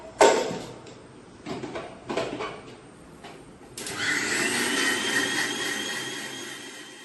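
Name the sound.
mixer grinder grinding spices with cardamom for egg curry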